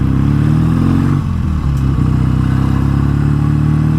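A BSA A10 Super Rocket motorcycle engine runs loud and close with a steady low rumble, briefly dipping and stumbling as it pulls away, then settling back into an even, throbbing drone.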